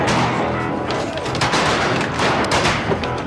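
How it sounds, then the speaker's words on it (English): Dense, continuous gunfire from guns shooting buffalo, overlapping shots and booms filling the whole stretch loudly, with voices mixed into the din. "Look, we're shooting buffalo."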